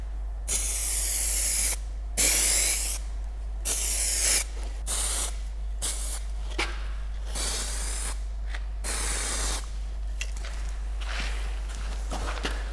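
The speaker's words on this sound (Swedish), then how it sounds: "Kommer jag spraya nu. Ett tunt lager, ett klibblager kallas det" Aerosol spray paint can hissing in several bursts of one to two seconds each, then a longer steadier spray, held about 25 cm from the surface for a thin tack coat, close and loud, with no talking.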